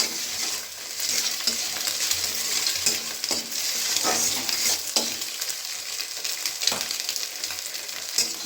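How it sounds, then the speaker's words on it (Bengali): Salted eggs sizzle loudly in an oiled kadai as they are stirred and broken into crumbly scrambled bits, with repeated scraping strokes of a spatula over a constant hiss. "ডিমটাকে বেশ ঝুরি ভাজা করে নিচ্ছি"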